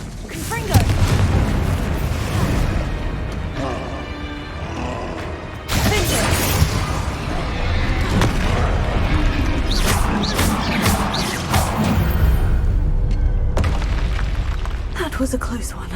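Confringo explosion spell in Hogwarts Legacy: loud booming blasts with shattering crackle and debris, a sharp burst near the start and another big hit midway, with a spoken voice over the action.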